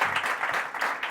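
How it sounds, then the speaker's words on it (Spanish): Studio audience applause on a podcast show, a short burst of many hands clapping in quick, uneven pulses, close and moderately loud. "un aplauso por favor para Carlos."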